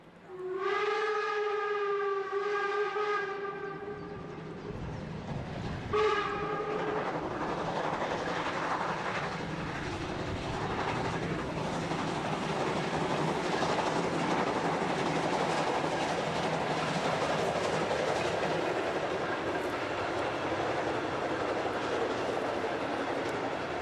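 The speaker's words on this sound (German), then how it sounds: "Drei Tage lang ist der alte Zug auf Usedom unterwegs." Steam locomotive 86 1323 hauling a museum train of old carriages on Usedom sounds long, loud harmonic whistle blasts, then a shorter blast, followed by steady chuffing and rolling rumble as the train passes.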